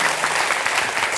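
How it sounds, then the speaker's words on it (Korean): Audience at a Buddhist lecture at Jogyesa clapping, a short, dense burst of steady applause from many hands filling the room. "괜히 제가 한번 박수를 유도해보기 위해서 한 말씀입니다"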